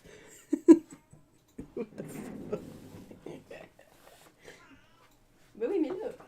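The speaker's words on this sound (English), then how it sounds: "I'm really sorry for the cat howls you can probably hear in the back" A house cat howls and yowls in the background of a live paint-mixing session, its drawn-out wails rising at the start and again near the end while someone talks and laughs quietly over it.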